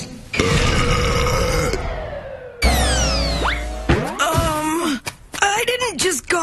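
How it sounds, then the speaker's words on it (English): A cartoon character from Pac-Man and the Ghostly Adventures belches in loud, drawn-out, wobbling bursts mixed with whooshing comic effects and groaning vocal sounds, close and punchy throughout. "And you belched out her eyeballs."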